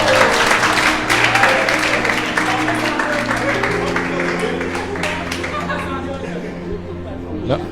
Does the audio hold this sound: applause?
yes